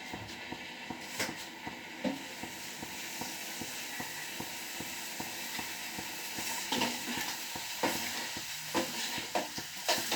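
A pan of tempering sizzles softly while a spoon clinks and scrapes in an uneven rhythm, with faint hissing bursts underneath and no one speaking.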